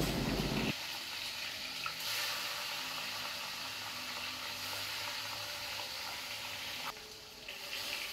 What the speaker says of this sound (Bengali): এবার কড়াই পরিমাণ মতো সর্ষের তেল গরম করে একে একে মাছগুলোকে এপিট ওপিট করে বাদামি করে ভেজে নেব।